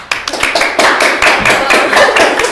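Applause from a small group in a talk or class setting, dense overlapping hand claps sustained and fairly close throughout, with a few sharper individual claps standing out.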